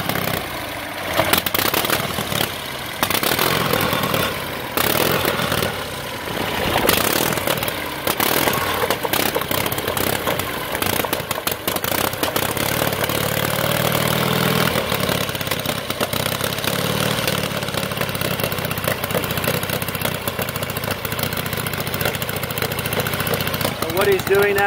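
A 1912 Indian board-track racer motorcycle engine idles at Daytona Speedway with an uneven, sputtering rhythm and occasional misfires as it clears its carburetor, loud and close with someone talking over it.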